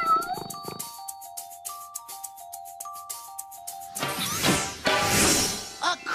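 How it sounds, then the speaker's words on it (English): A cartoon cat meows in a children's show, with several short, bright meows set over a simple plucked melody, followed by a louder sweeping musical flourish. "A creeping cat!"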